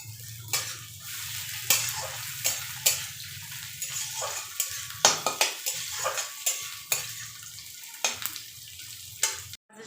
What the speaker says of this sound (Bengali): চলো চিকেনটা আবার দিয়ে দেবো, আর একটু ভাজা হবে